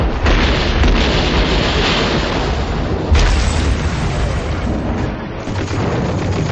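German artillery shells explode at Stalingrad in a dense, continuous roar of heavy booms and rumbling blasts, loud and close, with a fresh surge of impact partway through.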